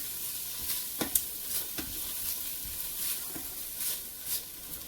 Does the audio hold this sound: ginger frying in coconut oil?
yes